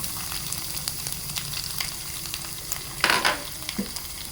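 Finely chopped garlic hitting hot oil with cumin seeds in a pan, a steady close sizzle with a brief louder hiss and crackle burst as more goes in.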